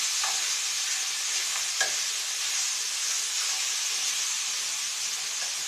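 Potatoes sizzling and crackling as they slowly fry in a hot pan, a steady bright hiss with a few soft stirring scrapes, fairly close.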